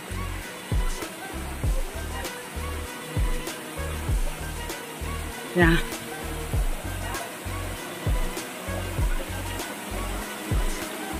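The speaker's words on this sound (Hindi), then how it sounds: "कितना सुंदर झरना है" Waterfall at Motinagar Bhuban Pahad (Pani Chowki), a steady rushing water roar heard close by, with brief speech over it and rhythmic low thumps running through.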